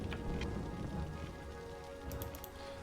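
Steady, even rain of a storm in the city-building game Cities Skylines, a continuous hiss of drops on surfaces with a few brief brighter patters near the end, no voices.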